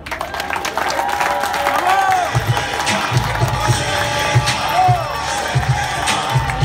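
Audience at a political rally applauding General Louis: continuous clapping and crowd noise, loud and close, with voices and shouts mixed in throughout.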